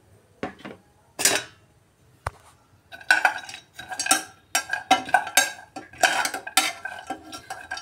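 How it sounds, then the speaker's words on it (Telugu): A ladle clinks and scrapes against a pan as dry fruits, coconut and cardamom fry in ghee, a series of irregular metallic taps and stirs, close and distinct, with faint quiet gaps between. "మనం కట్ చేసి పెట్టిన డ్రై ఫ్రూట్స్ని, కొబ్బరిని, యాలకులను కూడా వేసేసుకొని ఫ్రై చేసుకుందాము"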